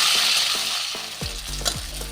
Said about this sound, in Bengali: এবার এই মাছটা আমি কড়াইয়ে দিয়ে দিয়েছি, এটাকে একদম লাল করে ভেজে নেব, কড়া করে।